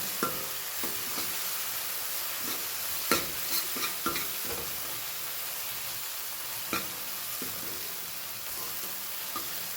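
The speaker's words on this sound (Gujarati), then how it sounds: "લાલ મરચું પાવડર, હળદર, ધાણા જીરું મિક્સ કરી લઈએ" Red chili powder, turmeric and coriander-cumin powder stirred in a pan: soft sizzling with intermittent spoon scrapes and a few sharp taps against the pan, close by.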